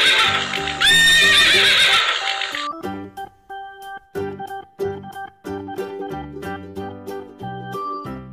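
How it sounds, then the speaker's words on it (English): A horse gives one loud, shrill whinny, followed by a run of rhythmic clip-clopping hooves over a bouncy, cheerful children's tune. "horse."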